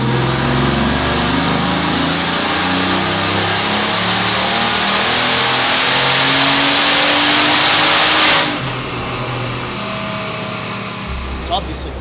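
A Bugatti Veyron, once flood-damaged and now with its low-end exhaust baffles removed, revs and drones loudly and close for about eight seconds, then settles abruptly to a lower idle.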